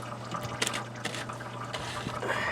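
Fluid from a CAT C7 diesel engine in a school bus conversion drains into buckets, a faint steady trickle with a few small splashes and clanks, quiet and alone.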